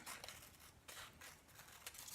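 Quiet, steady snipping of scissors through paper for a bookmark, a few crisp cuts spread over a soft, hissy background.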